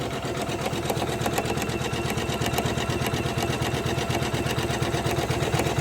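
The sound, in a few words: Janome 500e embroidery machine stitching Christmas tree ornament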